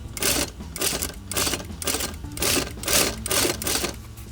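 A sewing machine runs in repeated short bursts, stitching a bias-folded edge while shortening a tank top or cap sleeve, its rapid mechanical whir starting and stopping about every half second, close and loud with no talk.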